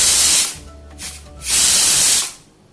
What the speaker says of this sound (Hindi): जैसा कि हम देख रहे हैं कि हमारे कुकर में सीटी आ चुकी है।